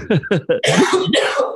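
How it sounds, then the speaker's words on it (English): A man has a fit of coughing up close, with several quick hacking coughs in a row followed by two longer, rougher, harsher coughs. "Now all of a sudden I got a cough."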